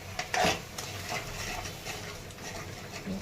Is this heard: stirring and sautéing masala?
yes